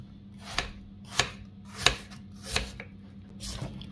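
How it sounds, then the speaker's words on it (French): A knife slicing an apple into thin strips on a board, five or six crisp evenly spaced chops close to the microphone over a faint steady hum, with no speech. "On va laisser juste une demi qu'on va couper en lamelles"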